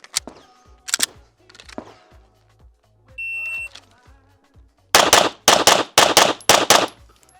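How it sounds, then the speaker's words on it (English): Pistol shots at a USPSA practice range: a string of loud, sharp cracks in a rapid cluster near the end, with a few earlier isolated reports and an electronic shot-timer beep partway through. "there's 2 wildly pulled shots on that"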